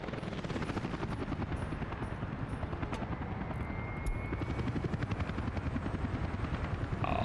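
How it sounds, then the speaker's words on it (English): Helicopter in the video game Workers and Resources, its steady rotor chop and turbine roar droning loudly and continuously throughout, close and unbroken with no talk. "Helicopters are cool, aren't they?"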